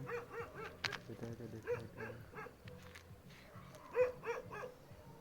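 A dog barks a few times amid animal sounds and background noise, fairly close.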